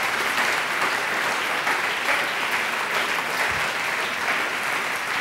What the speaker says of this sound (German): Genießt den ersten großen Applaus.